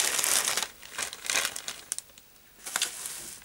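Heavily wrapped plastic packaging from a Freedom London order crinkles and crackles as it is opened, in bursts of rustling spread across a few seconds, fairly close and with no talking.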